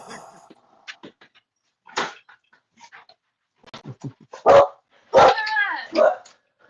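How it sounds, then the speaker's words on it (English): A dog barks in short sharp bursts inside a home, scattered yips and louder barks with pauses between, close to the microphone, while someone speaks in between. "Would you let him out so I could do this podcast without him barking no more?"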